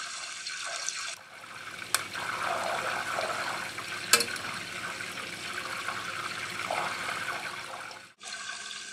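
Butter simmers over a low flame while being made into ghee, a steady, quiet bubbling hiss with a few faint pops and crackles, briefly dropping away near the end before resuming.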